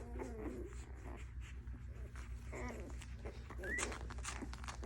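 Three-day-old Anatolian Shepherd puppies making faint, scattered high squeaks and whimpers, low in level against a constant low hum.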